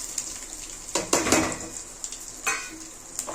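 Tempering spices and dal frying in hot oil for a sweet-lime rice dish, a soft sizzle broken by several scrapes and clinks of a spoon against the pan, close up and with no talk.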